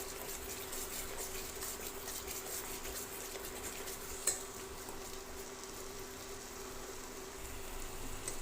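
Masala gravy is stirred and roasted in a pan for a boiled potato sabzi, with a faint, continuous sizzle and a single spoon clink against the pan midway.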